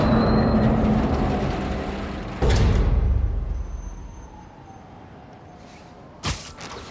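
Trains rumbling on rails in the Spider-Man Miles Morales video game: a loud steady rolling roar that slowly fades, with a bright metallic clank near the start and a sharp hit near the end.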